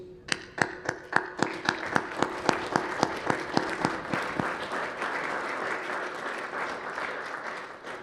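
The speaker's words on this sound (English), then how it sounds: "I'd like you all to join me in an applause for our coaches." A crowd at a military modern pentathlon championship award ceremony bursts into applause, sharp individual claps at first quickly blending into a dense, steady clapping that gradually thins out.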